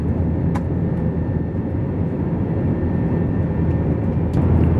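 Steady, dense airplane cabin roar at cruising altitude on a flight from Charlotte to Kraków, a broad constant low rumble that holds without a break from start to end, with no voices.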